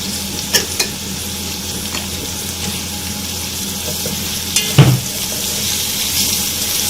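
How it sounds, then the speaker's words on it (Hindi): Onions and cinnamon sizzle steadily in a hot pan for beef pulao, with a few scraping stirs and clinks over the continuous frying hiss. "प्याज को हमें अच्छे से फ्राई कर लेना है कि इसका कलर सुनहरा सा हो जाए।"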